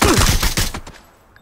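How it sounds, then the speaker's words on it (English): Gunfire from a shooting video game: a rapid burst of several loud, close shots in the first second, then a decaying echo tail fading to near silence. "Nice shot."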